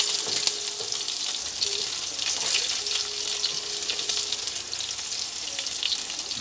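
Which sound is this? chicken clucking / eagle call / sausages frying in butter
sausages frying in butter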